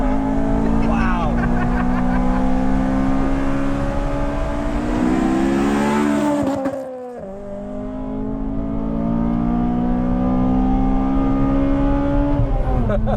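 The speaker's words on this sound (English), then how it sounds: "That revs out so high, man." Honda FD2 Civic Type R engine revving hard and high from inside the car, harmonics climbing steadily, briefly dropping off around a gear change, then winding up again, with talking over the engine.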